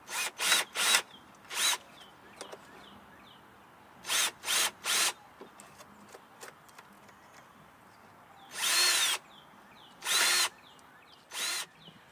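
Short bursts from a power drill boring countersink holes for a DIY screen printing exposure unit, about eight separate runs of varying length with pauses between, close and fairly loud against a quiet room.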